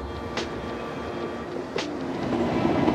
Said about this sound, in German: Für manche Leute sind Bahnhöfe ja laut und stressig.